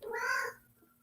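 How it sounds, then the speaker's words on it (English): A cat gives one short, clear meow indoors at close range, followed by quiet. "what are you doing, Cat?"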